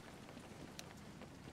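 Steady rain in a Garry's Mod Harry Potter Hogwarts roleplay game, a faint, even hiss of falling drops with a brief brighter tick partway through and no voices.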